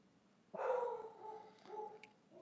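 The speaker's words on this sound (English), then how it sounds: "I don't know if you can hear my dog barking in the background" A dog barks in the background, a run of muffled bark-like calls rising and falling over about two seconds, moderately loud and with no talking over it.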